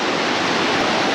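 Water at a waterfall along a trekking trail at Los Dinamos, Mexico, a dense, steady roar of falling and flowing water, loud and continuous without a break.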